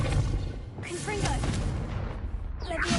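Confringo explosion spell in Hogwarts Legacy: a low rumbling blast with a heavy bass boom, overlaid by crackling bursts and brief tonal magical flourishes. A voice speaks over the rumble.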